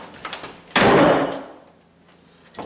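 A ceramic kitchen backsplash tile is pried off the wall with a tool slipped under it, producing one sharp, loud cracking scrape that fades over about a second, with a few small clicks around it.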